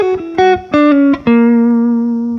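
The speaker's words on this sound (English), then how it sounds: "Now the whole lick is going to sound like this." Guitar lick built on a chord, several quick picked notes with a slide on the third string resolving to a long sustained sharp 11 note that rings out clearly, close and loud with no talking.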